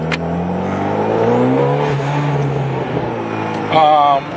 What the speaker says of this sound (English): I hear the exhaust hitting the body.